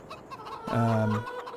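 Chickens cluck in the Farming Simulator 22 video game, with a single loud, drawn-out hen call rising over soft background clucking.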